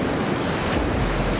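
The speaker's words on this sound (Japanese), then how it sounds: "すごい風だわ。" Strong wind roars at the shore of Lake Towada, a loud, continuous broadband rush with possible wave surf mixed in, filling the whole moment without any voices.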